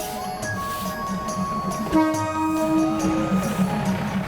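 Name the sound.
train passing slowly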